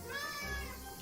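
A cat meows once in the Xenoblade Chronicles 2 video game, a drawn-out, wavering cry that fills the short moment at moderate loudness with a low hum underneath.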